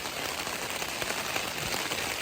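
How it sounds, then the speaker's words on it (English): Steady rain falling on a mountain trail on a day of the Pacific Crest Trail between Bishop and Independence, a continuous even hiss of drops with no pauses. "clearly still raining."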